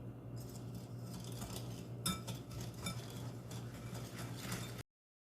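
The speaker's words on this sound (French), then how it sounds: "Donc j'ajoute le sucre et la cassonade et je vais battre le mélange." Eggs with white and brown sugar being beaten by hand for brownies, a steady run of light clinks and scraping of a utensil against a bowl over a low constant hum, with a few sharper taps partway through.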